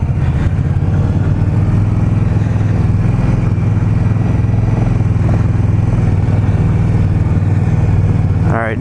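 A 2020 Indian Scout motorcycle engine hums steadily at cruising speed while riding, a low, throaty drone with constant wind and road noise mixed in.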